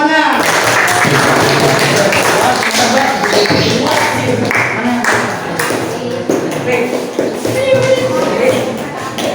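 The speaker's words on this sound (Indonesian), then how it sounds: "Tepuk tangan semuanya." Hands clapping in a classroom after a group discussion presentation, busy irregular clapping mixed with taps, shuffling and thumps as voices chatter over it.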